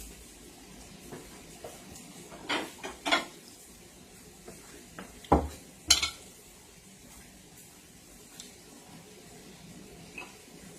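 Dishes and plates clatter in a home kitchen during a Dungeness and rock crab cook, with a few scattered clinks and knocks, two louder bursts, and otherwise quiet background.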